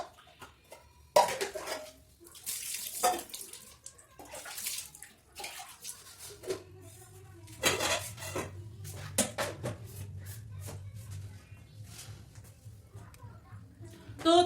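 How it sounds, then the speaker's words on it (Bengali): Rice is rinsed under running water, with splashing and sloshing as grains are swirled in a pot, plus intermittent clatter of the vessel and occasional voices in the background. "ভাতটা ধুয়ে নিই।"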